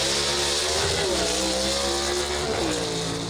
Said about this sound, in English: listen to this car leave the line